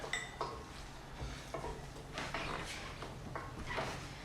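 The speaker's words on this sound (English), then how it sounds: "Let's mix these meatballs all up." Meatball mixture is worked by hand in a bowl, giving soft, irregular squelching and scraping with a few light knocks against the bowl, fairly quiet and with no talking.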